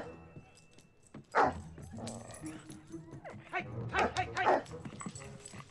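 A dog on a film set gives short yips and barks mixed with whimpers, close by and interleaved with people talking and a sharp shout.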